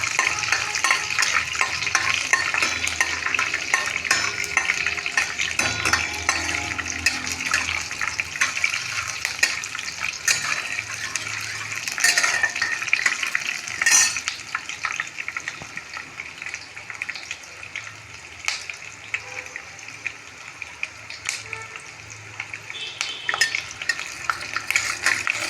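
Peanuts sizzle and crackle steadily in hot oil in a pan while being stirred, with scraping strokes at intervals, a close, continuous frying sound for pohe with no talking.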